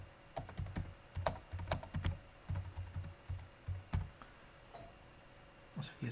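Keys clatter on a computer keyboard while text is typed into a web page, in irregular bursts of quick, fairly quiet clicks with short pauses and no talking.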